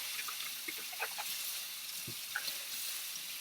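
A leek is rinsed under a running kitchen tap, with a steady hiss of flowing water and a few soft splashes and knocks as it is handled, close and alone without speech.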